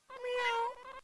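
A single drawn-out cat meow from a video game sounds clearly and close, rising and then falling over about a second.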